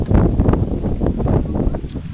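Strong evening wind buffets the microphone at Tagaytay People's Park, a steady low rumble with gusting swells that continues without pause through the short stretch.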